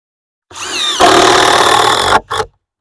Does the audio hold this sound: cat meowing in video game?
no